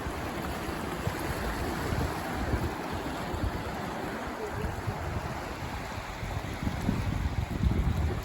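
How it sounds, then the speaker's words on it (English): Fast floodwater churns turbulently over a submerged spillway, a constant rushing roar with wind buffeting the microphone and no voices. "this gives you a good sense of just how fast that water's moving"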